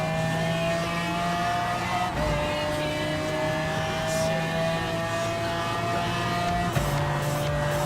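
Race car engines droning steadily at Suzuka in Gran Turismo Sport, a Honda among the cars, with a sustained tonal whine and a brief shift in pitch near the end, loud and continuous.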